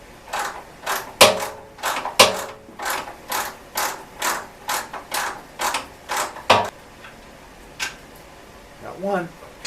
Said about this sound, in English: I'm going to take a big screwdriver, I'm going to shove it down inside the frame and see if I can break this nut free.